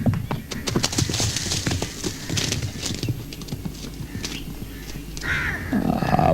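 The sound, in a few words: horse galloping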